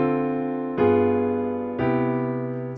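Three sustained piano chords on a solo piano, each struck cleanly and left to ring, showing smooth voice leading through a jazz progression that moves from the ii chord to the V chord and onward, with no talking.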